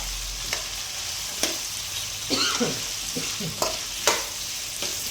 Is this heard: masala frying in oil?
yes